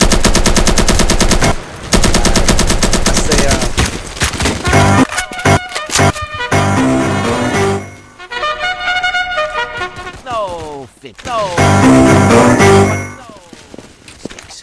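Loud, dense bursts of automatic gunfire ring out in the Roblox game Evade, with long sustained volleys, sharp cracks and short breaks in between, joined by game sound effects and music.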